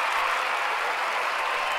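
Steady applause from a stream audience cheering a participant named Draga in a marbles game, a continuous even clatter of clapping with no talk.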